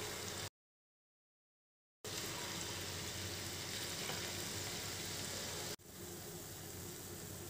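Puffed rice kurkure fries in a pan of hot oil, giving a steady, dense sizzle that drops out briefly near the start and then continues evenly to the end.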